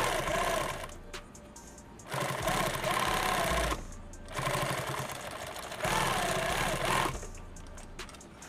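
A sewing machine tacks stitches back and forth on a 2 quart lid build, running in loud bursts of a second or two separated by brief pauses, close up with no talk.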